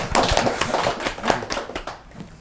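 Short burst of applause from a small audience at an awards ceremony talk show, a few seconds of close, scattered hand claps that thin out toward the end.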